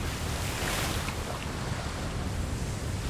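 Calm ocean water washes around a boat in a roleplay video game, a steady, even hiss of surf and wind with no distinct wave breaks. It is fairly loud and continuous, with no voices.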